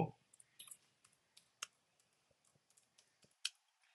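A password being typed on a computer keyboard, with faint, scattered key clicks in an irregular rhythm and a soft thump at the start.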